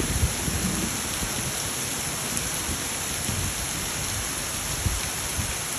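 Heavy rain from a rainstorm pours steadily near a house and its gutters, a dense, loud hiss of drops hitting surfaces with no pauses, no talking.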